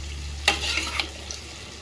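Horsegram bubbles in an opened pressure cooker after eight whistles, a faint steady simmer with a few soft pops and splutters over a low hum.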